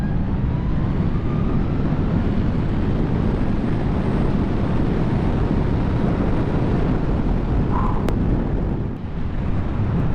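A 2023 Zero SR/F electric motorcycle accelerating at full throttle from a standstill, heard as steady, loud rushing wind and road roar throughout with a faint rising motor whine, without a break.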